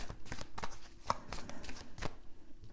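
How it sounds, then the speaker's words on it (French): A deck of oracle cards is cut and handled, giving a quick series of crisp card slaps and riffling snaps, close and fairly loud, with a brief quieter gap near the end and no talking. "On va faire une première coupe."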